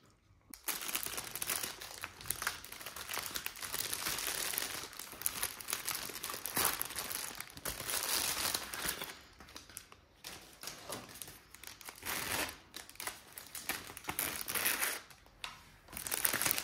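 Foil wrapper of a dark chocolate Easter egg crinkles and crackles continuously up close for the whole stretch, with no talking.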